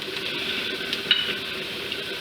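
Coriander and turmeric powder sizzle in hot oil at close range for an okra masala, a steady hiss with light stirring scrapes and a small clink, no voices.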